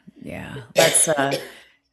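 A single harsh cough, close and loud, with a rough throaty burst after a brief breathy lead-in.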